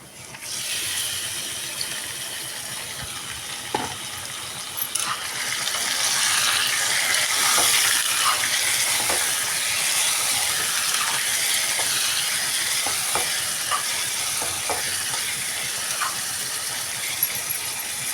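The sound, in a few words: chicken frying with browned onions in a pan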